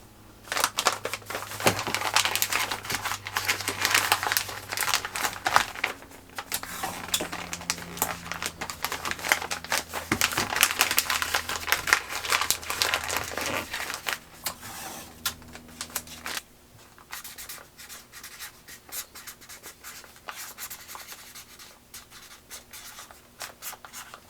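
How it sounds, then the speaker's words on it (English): Freezer paper crinkles and rustles as a cheesecake is wrapped in a double layer, close and busy crackling in bursts that thin out toward the end. "Now I am going to do a double layer of the freezer paper just to protect the cheesecake from any freezer burn."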